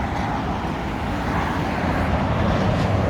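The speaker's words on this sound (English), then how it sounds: "Sorry about the road noise." Steady rumble of road traffic, cars passing nearby in a continuous low wash with no pauses.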